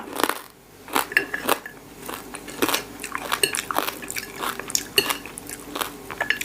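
Crisp, close crunching bites of Thai crispy pork-crackling chili paste, eaten with khanom jeen rice noodles, come in sharp irregular snaps and chewing, with a few clinks of utensils and no talking.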